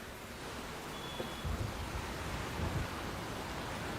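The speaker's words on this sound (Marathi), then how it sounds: "अमित, आज पहाटेपासूनच मुंबई आणि परिसरामध्ये अतिमुसळधार पाऊस पडलेला आहे" Heavy monsoon rain pours down steadily in Mumbai, a dense, even hiss with a few low rumbles that may be distant thunder, and no voices.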